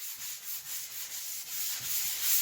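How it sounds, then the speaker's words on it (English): A drywall patch being lightly sanded with 220 grit sandpaper on a sanding block, a steady close rhythmic rasping of back-and-forth strokes with nothing else over it. "So I'm just going to lightly sand over our patch."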